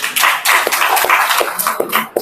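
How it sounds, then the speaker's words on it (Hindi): An audience at a talk gives a round of hand clapping, dense and irregular, near and fairly loud, fading out briefly toward the end. "इनके लिए ताली बजाओ एक बार।"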